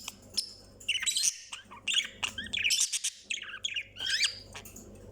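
A pet budgie parakeet sings close by in rapid chirps, warbles and squeaky trills. The bursts are broken by short pauses over a low background hum.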